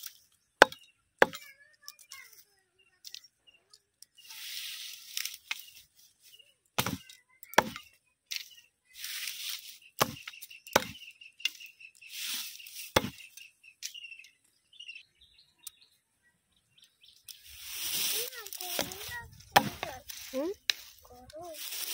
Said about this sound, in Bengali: না রান্না করতে গেলে কাঠ কেটে রান্না করতে হচ্ছে